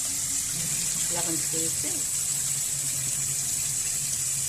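Water is poured off boiled moong dal in a home kitchen as a steady hissing stream runs throughout, with someone speaking briefly over it.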